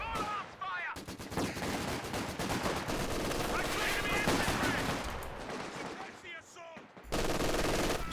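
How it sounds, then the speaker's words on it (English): Rapid machine gun bursts rattle through a Company of Heroes 2 battle, dense overlapping gunfire and explosions filling the scene, with short gaps near the start and end. "Machine gun just in range of those squads"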